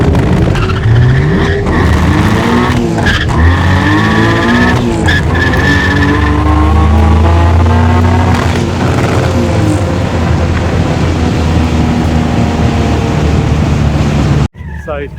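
Ford Anglia race car launching off the line on a track, engine revving hard through rising gear pulls with tire squeal, loud and close, with people talking over it before an abrupt cut.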